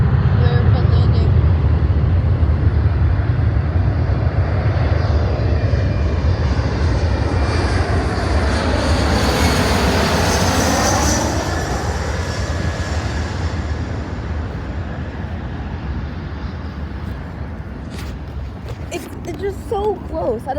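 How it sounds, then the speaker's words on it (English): A jet airliner comes in to land at LAX, its loud engine roar swelling and sweeping overhead before easing off into a steady rumble, with a voice talking over it. "Airplane landing."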